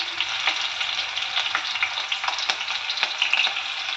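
Chopped onions sizzling in hot oil with mustard seeds and cumin in a pan, a steady bright crackle with occasional stirring scrapes, close and continuous without talk.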